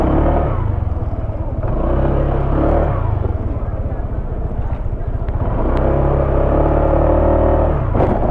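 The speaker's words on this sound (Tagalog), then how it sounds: "Hirapan yung motor ko rito ah." Motorcycle engine labouring on a rough road, a steady loud rumble with bumpy clatter throughout and rising strain toward the end.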